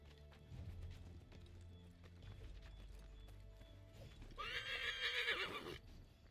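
Hoofbeats clop steadily at a gallop in the video game Assassin's Creed III, then a horse lets out a loud, shrill whinny near the end, all heard without any talking.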